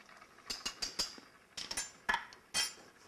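Bouillon stirred into a pot of vegetable soup with bok choy and peas, heard as a run of sharp clinks and scrapes of a spoon against the pot, close and irregular over quiet background.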